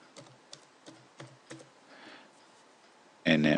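A number being typed on a computer keyboard, five or six sharp separate key clicks in an uneven rhythm, close and fairly quiet, followed by a brief louder burst at the end.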